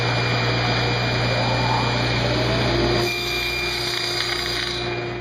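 A power saw cuts tenon shoulders on cherry rails with a steady, loud whine and a constant tonal hum, easing slightly in pitch partway through as the blade works the wood.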